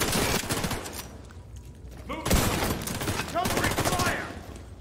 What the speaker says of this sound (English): Not the guy who's actually shooting me right now